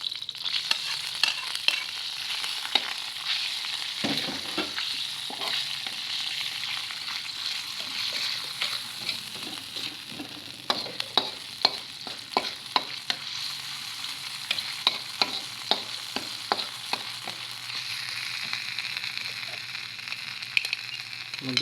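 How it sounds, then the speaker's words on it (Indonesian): Red chilies sautéing in hot oil for Padang-style satay, a steady close sizzle with a dense stream of sharp crackles and pops, plus scraping stir strokes through the middle section. "Sekarang kita masukkan cabai yang mau ditumis."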